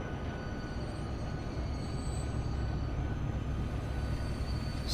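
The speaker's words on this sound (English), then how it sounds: "Here's our New Haven USA train." A New Haven USA train runs in the video game Transport Fever, a steady rolling rumble with continuous rail noise and a faint high tone, heard alone without talk.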